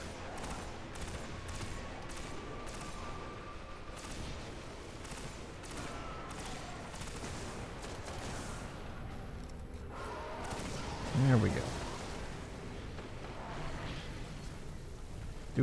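Gunfire in the video game Destiny, a dense, continuous rattle of rapid shots and crackling fire at moderate distance, with a brief louder burst partway through.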